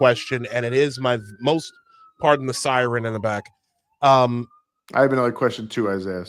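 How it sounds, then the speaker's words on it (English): Police siren wailing faintly in the background, a thin rising and falling tone running behind close conversation as people keep talking over it. "pardon the siren in the back."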